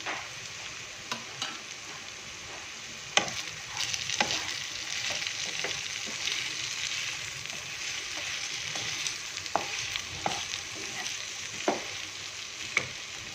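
Plain cooked rice being stirred into biryani masala in a hot pan, a steady sizzle with scattered scraping and tapping stirs throughout, no voices.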